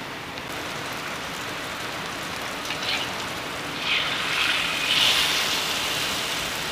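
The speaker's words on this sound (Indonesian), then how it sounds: "di luar sekarang ini hujan tapi tidak lagi hujan terlampau deras" Steady rain falls outside, a dense continuous hiss with a few brighter patters swelling near the end, heard alone with no talk.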